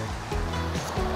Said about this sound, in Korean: 아 물소리 좋다 진짜